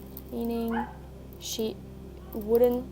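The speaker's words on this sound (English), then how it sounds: "sorry for the dogs outside" A single neighbor's dog barks outside in short bursts, somewhat distant, heard under a person talking.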